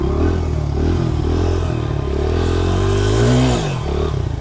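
A motorcycle pulls away under a novice rider, engine climbing and dipping as it shifts from first into second gear, loud and close throughout with a low rumbling tone and some clatter.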